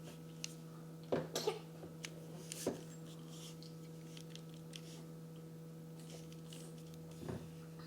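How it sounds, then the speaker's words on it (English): A few short coughs close by, a quick cluster then a single cough and a later faint one, over a constant low electrical hum in a quiet room. "You got big coughs?"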